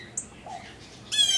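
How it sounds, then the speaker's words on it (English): Cardinals and blue jays squawk angrily in a pine tree, with short sharp calls early on and then a louder, harsh burst of squawking at the end, fairly close. "All the birds are furious."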